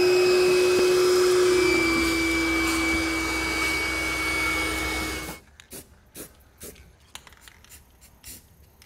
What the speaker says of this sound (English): we're gonna go ahead and clean this up, vacuum up all the mess we made